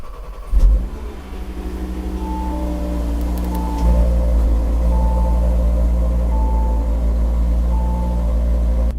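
An Audi RS3 8Y five-cylinder engine cold-starts with a brief cranking burst, then settles into a loud, steady, droning high idle with a deep rumble, heard close and alone.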